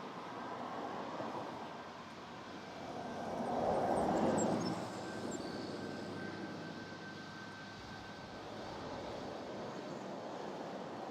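Airliner jet engines roar at Toronto Pearson airport, a broad distant rumble that swells to a peak and then fades back into a steady background drone.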